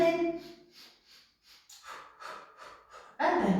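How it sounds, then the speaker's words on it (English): Rhythmic Pilates breathing during a Hundred abdominal and diaphragm exercise, a series of short, close breathy puffs of exhaled air with brief pauses between them, ending in a louder rush of breath. "Start with the breathing"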